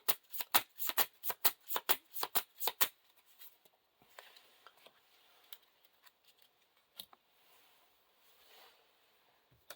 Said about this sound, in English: Discarding random cards.